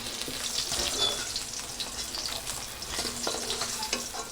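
Potatoes sizzle and crackle in hot oil while being stirred in a pan, as part of a mustard hilsa fish curry, with a close, steady frying hiss and occasional scraping of the spatula.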